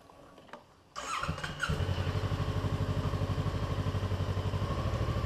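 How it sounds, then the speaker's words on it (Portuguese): A Kawasaki Versys 650 motorcycle starts up after a faint click, then settles into a steady, close, loud rhythmic idle with a pulsing exhaust beat and no one speaking. "Agora a moto montada, a gente vai fazer aquele test ride nessa Versys 650 da Kawasaki."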